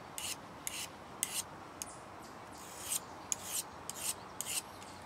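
A knife blade is sharpened by hand with a series of short, quiet rasping strokes in an irregular rhythm, each a crisp scrape with brief pauses between, heard close and alone.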